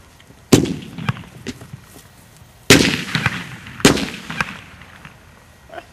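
Homemade bombs go off outdoors as three sharp, loud blasts, each trailing a rumbling decay, with smaller crackles between them.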